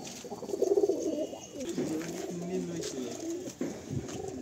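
Pigeons coo in a loft for sale, several birds producing rolling, throaty calls close by in overlapping phrases, with someone speaking briefly in between.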